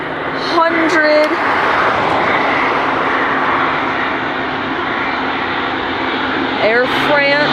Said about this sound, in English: Here comes the Airbus A350